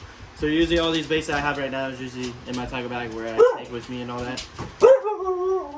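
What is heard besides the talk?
husky dog barking and howling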